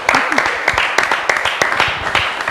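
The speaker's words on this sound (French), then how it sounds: "Elle mérite des applaudissements," Audience applause on a youth talk show about couples: a dense patter of claps with sharper hand strikes scattered through it, mixed with some voices, continuing steadily for a couple of seconds.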